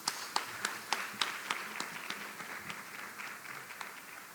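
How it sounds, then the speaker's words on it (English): Faint, scattered applause from a conference audience at a healthcare conference in the Cayman Islands, a few distinct claps popping out over a soft, thinning patter that gradually fades. "So please give all of them a round of applause"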